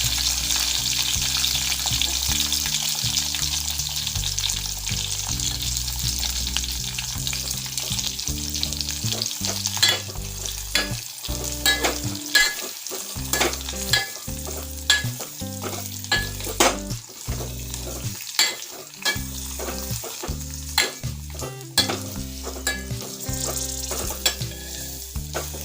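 Ground coconut paste frying in a pan for a spicy drumstick curry, a loud continuous sizzle broken by repeated scraping stir strokes of a spoon against the pan, close up with no talk.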